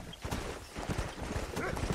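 Horse hooves gallop in the video game Red Dead Redemption, a quick, close run of rhythmic clip-clop beats heard clearly on their own.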